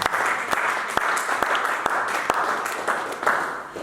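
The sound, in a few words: church congregation applauding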